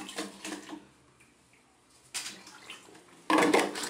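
Water poured for drinking, a few short bursts of splashing liquid separated by quiet pauses, with a louder, closer pour near the end and no speech.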